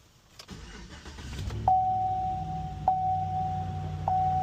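A 2016 Chevy Silverado 2500 truck cranks with a key and fires up, then settles into a steady, close idle while a chime beeps at regular intervals.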